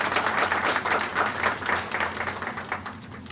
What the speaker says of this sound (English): please give the Cleveland Public Library staff, from all of our different departments, a big round of applause